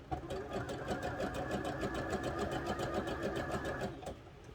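A sewing machine stitches the seams of a pair of wrestling tights, a close, steady rapid needle rhythm running about four seconds before stopping abruptly.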